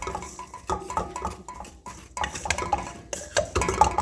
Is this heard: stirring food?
yes